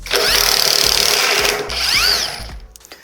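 A cordless impact driver drives a fastener into wood with a loud, close, continuous rattling whir for about two seconds, then winds down and stops.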